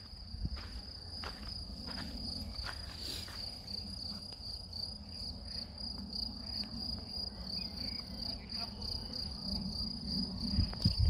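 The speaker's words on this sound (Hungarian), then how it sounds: "Micsoda tücsök zene van te!" Crickets chirp in a steady, continuous high trill outdoors, holding evenly through the whole stretch, with faint low rustling and soft thuds beneath.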